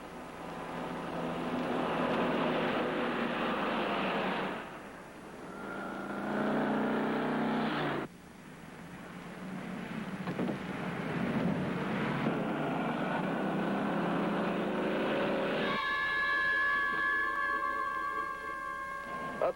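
A 1950s truck drives along a road, its engine droning loudly and continuously. The pitch shifts as it changes speed, and tones like a siren rise near the end.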